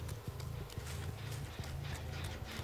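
Footsteps in the horror game Dead by Daylight: a steady run of soft, low thumping steps throughout, close, with a constant low hum underneath.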